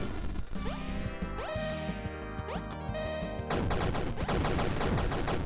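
Rapid video game gunfire from a pistol and bazooka in Super Crate Box, with sharp retro shots, crashes and blasts over chiptune music, dense and continuous, shifting to heavier explosive bursts near the end.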